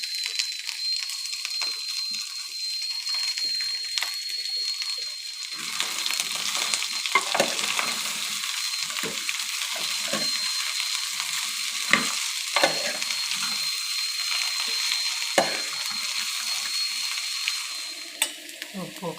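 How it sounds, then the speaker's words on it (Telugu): Okra fries in hot oil with a steady, even sizzle while a ladle stirs it, scraping and clinking against the pan now and then, close and continuous with no talk. "బెండకాయలు గరిటతో కలుపుకొని"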